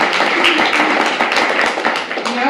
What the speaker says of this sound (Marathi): यावर आपण जोरदार टाळ्या वाजवूया.